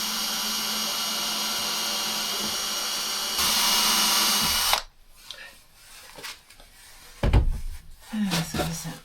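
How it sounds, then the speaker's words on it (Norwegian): A power drill bores screw holes in a homemade wooden toolbox, a loud steady whine running for almost five seconds before cutting out, followed by quieter handling knocks and bumps. "Nå skal jeg bore høl før jeg skrur."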